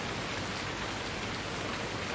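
Steady rain falls in Farming Simulator 19, a dense, even hiss of drops with no breaks, close and uniform throughout with nothing else audible.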